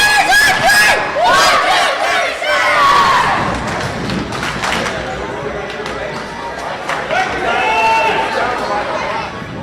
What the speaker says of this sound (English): I think you could hear the Crusaders shouting, to break their huddle.